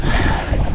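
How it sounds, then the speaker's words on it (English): Strong wind gusts buffet a fishing boat on open water, a brief, loud, rough roar of wind blasting the microphone. "the wind is just blowing you around like crazy"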